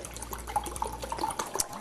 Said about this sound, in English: I'm going to pour out a cup of chicken broth